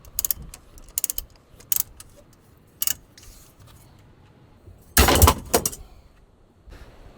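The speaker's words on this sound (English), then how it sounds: "It just comes with this little wrench. You just stick it on and you loosen it." A small wrench loosening an X-Chock wheel chock on an RV, giving a few short metallic ratcheting clicks and clanks spaced apart, close by, with a louder clattering burst near the end.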